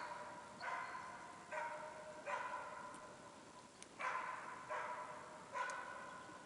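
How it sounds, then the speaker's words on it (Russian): A hunting dog barks in an autumn forest during upland game hunting, giving about seven single barks at a steady, unhurried pace, moderately distant with a soft echo and no talking. "Чего она там лает, интересно?"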